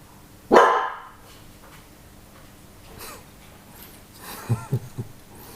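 A dog barks once loudly and close, then after a pause gives several quick, quieter yips and barks in a short burst.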